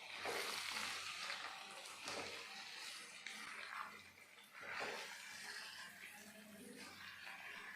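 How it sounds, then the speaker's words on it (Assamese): Chicken pieces frying in oil with banana stem in an Assamese home kitchen, a steady, close, loud sizzle with crackle that swells and dips as the pan is stirred, with no talk over it. "এতিয়া ইয়াত দেখিছে মাংসখিনি ভাজি ইয়াৰ পৰা তেল ওলাব ধৰিছে"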